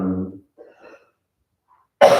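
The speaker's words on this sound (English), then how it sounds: "I hope you enjoyed the rest through my cough." A single sharp cough bursts out loudly near the end, after a stretch of a voice and near silence during a calm yoga session.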